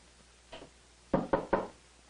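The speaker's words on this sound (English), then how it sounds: "Pick it up with a knock on the door." Three sharp, loud knocks on a door in quick succession, preceded by a fainter shuffle, in a staged sitcom scene with no talking.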